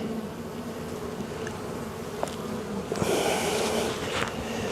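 Honeybees buzz steadily at an opened hive during a brood inspection, a dense close-up drone of many insects that swells louder partway through.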